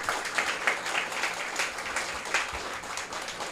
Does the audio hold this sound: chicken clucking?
no